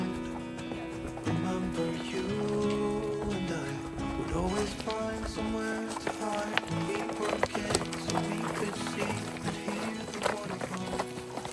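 Shetland ponies trot downhill toward a valley bottom on a running outing with dogs, their hooves making a steady clip-clop throughout, mixed with sustained tonal sounds that resemble music.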